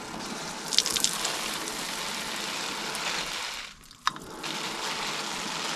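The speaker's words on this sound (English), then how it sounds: "I'm gonna turn the hot water on" Hot water runs from an outdoor shower in a steady, hissing gush that briefly dips and sputters near the end before resuming at full flow, with no one speaking.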